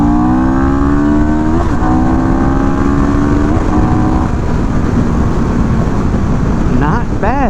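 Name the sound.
motorcycle accelerating quickly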